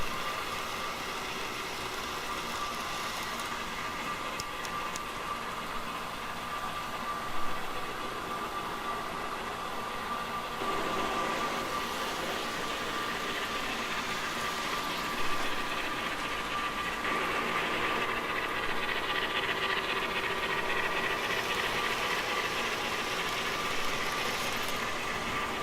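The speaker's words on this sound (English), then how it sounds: "Here's a little bit of the trains running." HO scale model trains run around a home layout, a steady whirring mechanical hum with faint clicking that swells slightly at times, continuous and fairly quiet with no talking.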